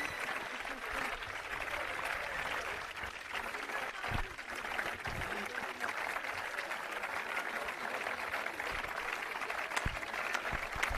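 A crowd at the closing ceremony of the JIJ Athens 2024 games in Grammatiko applauds, a sustained dense wash of clapping heard from a distance, with some voices mixed in.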